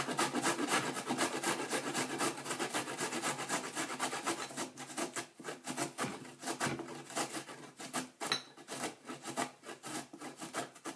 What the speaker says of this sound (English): I'm going to take my handy dandy grater and I'm going to grate the ginger